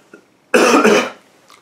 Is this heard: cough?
yes